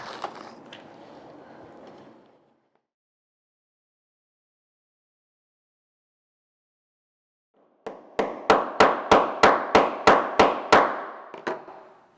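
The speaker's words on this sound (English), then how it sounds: "this is the side you're going to hammer. So I've got my nylon mallet" A quiet stretch, then about a dozen sharp, evenly spaced blows from a nylon mallet hammering in a steady rhythm, loud and close, with a resonant ring, echoing.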